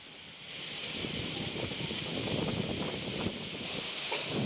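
Heavy rain pours down in Fraserganj during Cyclone Remal, a dense, unbroken roar of drops mixed with gusty wind noise that swells slightly after the first half-second and then holds steady.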